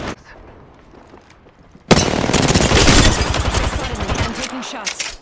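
Gunfire in the video game Apex Legends, a sudden loud burst of rapid automatic shots and impacts erupting after a quiet stretch and continuing densely to the end.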